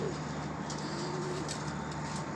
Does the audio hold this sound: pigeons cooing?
yes